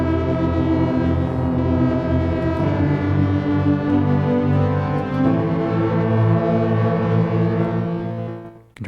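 Tape emulation patch on a Sonicware Texture Lab, its pattern notes deleted, gives a dense sustained drone with layered harmonics and slight pitch wavering, steady and loud for several seconds before cutting off abruptly.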